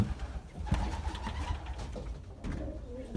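Belgian racing pigeons coo softly and repeatedly inside a loft, low throaty calls close by, with faint rustling and movement between the coos.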